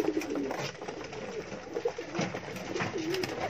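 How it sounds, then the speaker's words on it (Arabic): A pigeon cooing softly, with several low, rolling coos against a faint background, one sick bird kept near the rest of a home flock. "زي ما انتم شايفين الحمامه ديت اهي بالمنظر ده كده قدامكم اهي"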